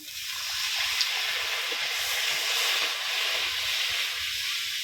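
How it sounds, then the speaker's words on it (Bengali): Water poured into a hot pan of cooking tomato masala hisses and steams loudly and steadily for several seconds, a broad bright sizzle with little change. "এবার আমি জল দিয়ে দেবো পরিমাণ মতন"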